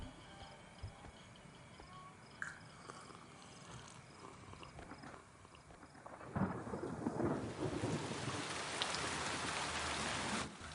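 Steady rain falls throughout, swelling to a heavier, closer downpour in the second half, with a low rumble that could be thunder; no one speaks.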